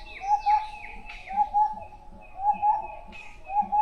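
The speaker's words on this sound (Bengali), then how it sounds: "পাখির আওয়াজ শুনতে পাচ্ছেন?" Birds call in the forest of Bibhutibhusan Wildlife Sanctuary at Parmadan, giving short paired chirps that repeat in a steady rhythm about four times, clear and moderately near over a quiet background.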